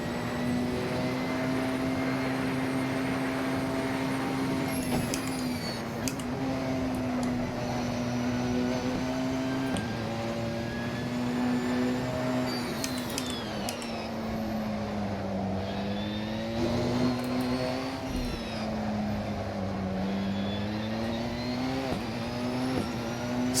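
The Porsche 919 Hybrid race car engine in Assetto Corsa at Sebring drones steadily at high revs, its pitch rising and dipping through gear changes and corners, loud and continuous with no voices.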